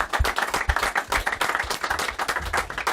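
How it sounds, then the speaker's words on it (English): Audience applause and clapping for a football club's Player of the Week honour, a busy patter of many hands sounding steadily for about three seconds with a faint voice underneath. "So give him a round of applause, everybody."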